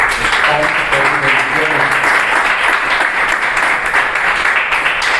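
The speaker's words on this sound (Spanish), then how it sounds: "Damos un aplauso al Señor" A church congregation gives a loud, sustained round of applause during a worship service, thick continuous clapping with murmured voices underneath.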